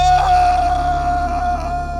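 An actor delivers a deliberately dumb, drawn-out scream while falling in the film Juice: one steady, strained, wailing tone held for about two seconds, loud and close over a low hum.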